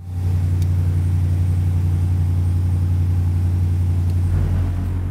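A SaltDogg TGS07 salt spreader's vibrator hums steadily and loudly, a constant low buzzing drone that holds unbroken for about five seconds with no talk.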